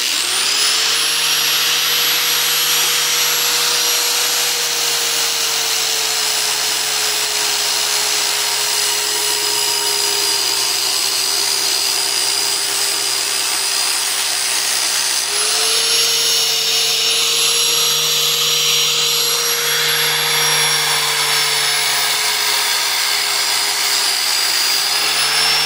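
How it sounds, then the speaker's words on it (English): Steady, loud whine of an angle grinder running without pause as it grinds down the little stop on a jaw trap lever, the pitch dipping slightly as the tool bears into the steel. "you can take your grinder and just grind that little stop all the way up"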